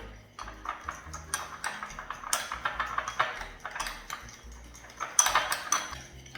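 A spoon clinks and taps rhythmically against a bowl while a shrimp and grapefruit salad dressing is mixed with salt and pepper, light close clatter without talk.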